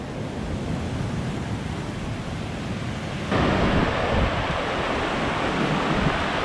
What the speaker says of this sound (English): we're going to get belted by this wave